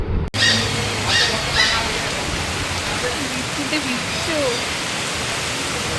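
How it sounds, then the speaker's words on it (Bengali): Heavy rain pours down in a dense, constant hiss, with faint voices now and then beneath the downpour. "এত জোরে জোরে বৃষ্টি পড়ছে"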